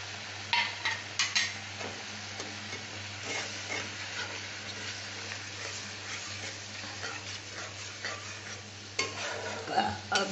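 Ginger-onion paste sautéed in a pan for doi katla gives a moderate steady sizzle, broken by intermittent scraping and stirring clicks from a spatula.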